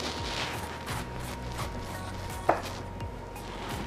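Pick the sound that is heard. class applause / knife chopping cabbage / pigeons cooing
knife chopping cabbage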